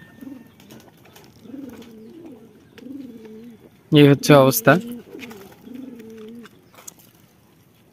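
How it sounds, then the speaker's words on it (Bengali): Local desi pigeons on a home rooftop, one of them sick, coo in steady low repeated phrases, with a brief burst of wing flapping and flutter in the middle; a person speaks briefly. "আমার একটা কবুতর অসুস্থ, এই যে এই কবুতরটাও ভিতরে যাচ্ছে"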